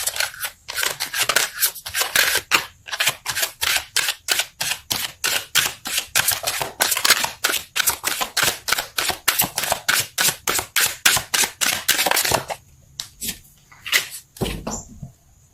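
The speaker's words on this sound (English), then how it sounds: "Let's pull a card for your emotional space." Tarot cards are shuffled in a fast, steady run of crisp riffling snaps that lasts several seconds, close and loud, before a short quieter pause and a last soft handling sound.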